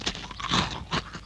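Crisp crunching bites into Glasgow biscuits, three or four close chewing crunches in quick succession with no talking.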